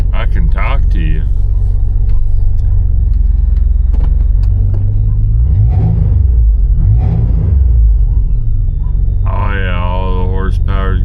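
A Jeep JK engine idles and revs through its repaired exhaust in a low, steady rumble with a couple of swells, while people talk close by in the cab.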